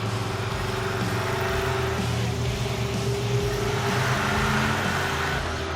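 Stubby Bob, a custom car, accelerating hard in first gear: a loud, steady engine roar with strong low harmonics, heard up close from on board.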